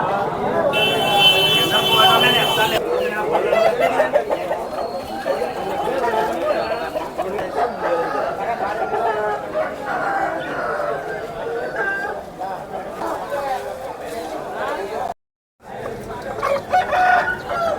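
Country chickens and roosters at a busy chicken market in Gokavaram, East Godavari, Andhra Pradesh, crow and cluck repeatedly amid loud crowd chatter and bargaining voices.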